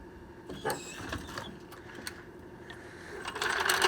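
A jack lowers an old Ford diesel truck's front axle onto a jack stand, giving a run of close mechanical clicks, creaks and metal knocks, with a louder rattling drop near the end.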